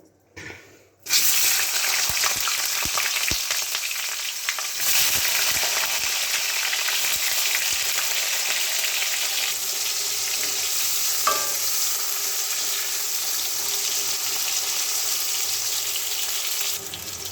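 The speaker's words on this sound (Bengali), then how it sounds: "বেগুনটাকে আগে ভেজে তুলে নেব" Eggplant frying in hot oil sizzles loudly and continuously after a brief quiet start, with occasional stirring clinks over the steady crackle.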